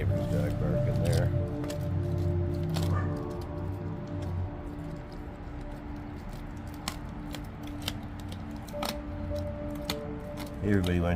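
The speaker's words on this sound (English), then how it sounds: "I can hear Ryuk still out there chewing" A dog named Ryuk gnaws on a piece of pig, producing wet, squishy chewing and sharp crunching clicks outdoors, steady and fairly close, with a faint steady hum behind it.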